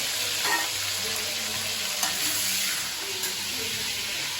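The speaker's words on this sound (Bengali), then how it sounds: "নুন হলুদ মাখানো মাখিয়ে নিয়েছে এবার ভাজা করে নিই ভালো করে ভাজতে হবে" Ridge gourd coated in salt and turmeric fries in hot oil, a loud, continuous close sizzle with soft stirring scrapes throughout.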